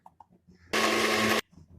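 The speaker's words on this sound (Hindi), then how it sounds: "और अभी इसको मिक्सी में डाल के तो इसका जेल बना लेंगे पानी की तरह।" A mixer grinder whirs loudly for under a second, blending a mixture into a watery gel for a hair oil treatment, starting and stopping abruptly amid faint kitchen clatter.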